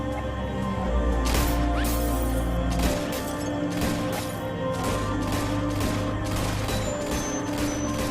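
Sniper rifle shots in an action film ring out as a rapid series of sharp, loud cracks over a dense, rumbling soundtrack, repeating steadily throughout.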